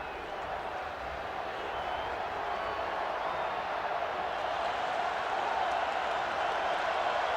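Kansas State fans roar in a packed stadium at the 2004 Fiesta Bowl against Ohio State, a steady, dense wall of crowd noise that holds unbroken throughout.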